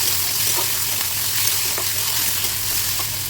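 Ginger-garlic paste frying with onions and tomatoes in a pan for a chickpea ghugni curry, giving a steady, close, continuous sizzle with faint stirring clicks and no talking.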